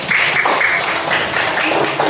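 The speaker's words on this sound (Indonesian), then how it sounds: "beri tepuk tangan untuk kelompok 2" A classroom audience applauds group 2, with brisk, moderately loud clapping from several people that keeps up steadily throughout the short stretch.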